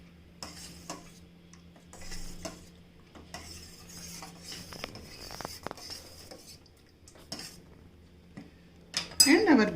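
A spoon clinks and scrapes against a pot while dal with ghee is stirred, giving irregular metallic knocks over a faint background hum, with louder clatter near the end.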